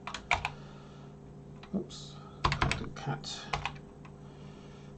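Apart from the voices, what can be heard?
typing on a BBC Micro Model B computer keyboard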